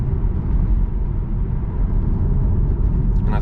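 Tesla car driving along a narrow UK countryside road in fog and bad weather, heard from inside as a steady low road and engine rumble with tyre noise, continuous and fairly loud, with a brief faint sound near the end.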